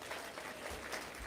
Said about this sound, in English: Yes, you can clap for that as well.